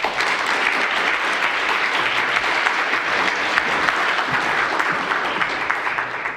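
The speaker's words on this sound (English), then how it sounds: "Please give Dr. Armando Ibarra a round of applause." An audience gives a speaker a round of applause at a talk on educational disparities in Wisconsin, with dense, steady clapping from a large crowd and no voices.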